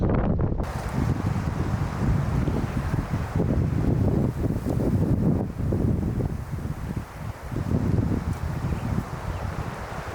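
Wind blowing outdoors by a river in Idaho during fly fishing, buffeting the microphone in a loud, continuous roar that barely lets up across the whole stretch.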